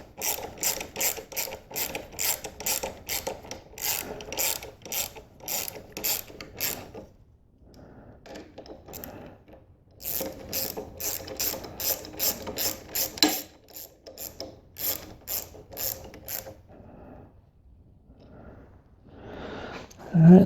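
A hand ratchet tightens handlebar clamp bolts onto a motorcycle steering stem, delivering rapid bursts of close, crisp clicking strokes separated by short pauses, with faint handling noises between.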